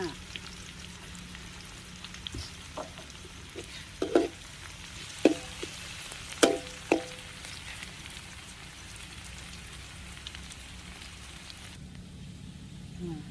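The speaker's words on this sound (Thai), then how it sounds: "นี่น้ำมันหมูนะคะ กระเทียมไปเจียวค่ะ" Garlic frying in pork lard in a pan, a soft continuous sizzle with scattered louder pops and spoon taps, fairly faint and close, with a quiet voice speaking at times.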